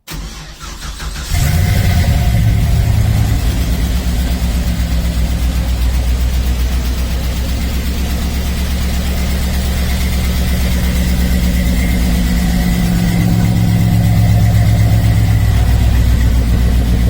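A 1953 Chevy pickup engine cranks and catches after a brief moment, then settles into a loud, steady rumbling idle that continues to the end.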